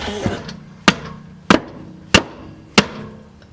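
Four evenly spaced, solid thuds of a rubber mallet striking, each ringing briefly, close and loud against quiet background.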